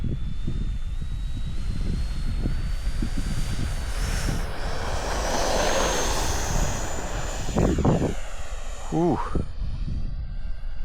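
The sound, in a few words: Eflite F-16 Thunderbirds 70mm RC jet flying on maiden flight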